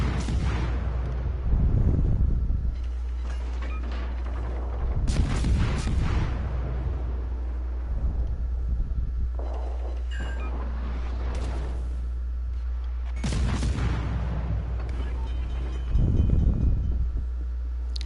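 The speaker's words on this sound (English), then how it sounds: "Did hit him with torpedoes." Heavy torpedo hits and explosions from a PS4 naval battle game, several deep booming bursts spaced across the stretch over a steady low hum, with a brief distant shot between them.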